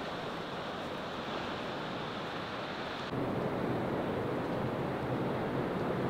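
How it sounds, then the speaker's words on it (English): Waves break against rocks along a coastal path in Chiba, Japan, a steady broadband wash of surf with some wind, growing noticeably louder halfway through, with no voices. "On the way up, you can always hear the sound of the waves hitting the rocks."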